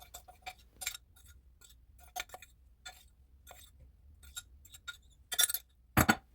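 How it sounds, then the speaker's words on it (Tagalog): Chicken wings are stirred in a sauce mixture in a mixing bowl, with a scattering of light clinks and taps of a utensil against the bowl and soft wet movement, faint and close. "Haluin ito hanggang malagyan o ma-coat ng sauce ang lahat ng chicken."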